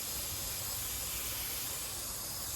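Paint sprayer misting light green paint onto a Jayco camper, a steady close broadband hiss that continues without a break.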